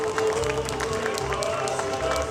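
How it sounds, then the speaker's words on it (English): An audience at a Tonga cultural performance at the Festival of Pacific Arts applauds, a brief steady patter of clapping with crowd murmur and a voice over it. "Give her a round of applause, please."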